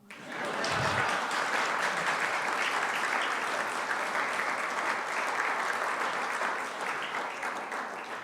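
Sustained audience applause fills a college State of the College address hall, loud and steady for about eight seconds with no speech over it, tapering slightly at the end.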